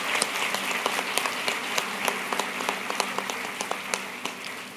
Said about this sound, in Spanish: te damos un fuerte aplauso